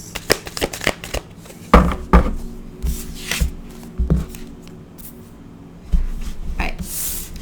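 Tarot cards being shuffled by hand, a run of brisk papery riffles and soft slaps in quick bursts with short pauses, close and fairly quiet, with no talking.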